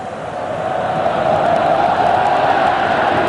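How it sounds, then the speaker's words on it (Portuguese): Flamengo supporters in a packed stadium at the 2006 Copa do Brasil final against Vasco, chanting olé as a loud, sustained mass of voices that swells slightly and holds steady throughout. "a torcida do Flamengo empolgadíssima, já esboça um grito de olé"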